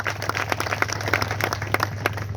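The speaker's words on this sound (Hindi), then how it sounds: "हम मंचासीनों से आग्रह करेंगे इनके सम्मान में दिल की गहराइयों से जोरदार तालियां हो जाएं।" Applause from an audience at an indoor speech event, greeting first-time attendees being introduced. Many hands clap in a dense, steady patter over a low electrical hum, with no talking.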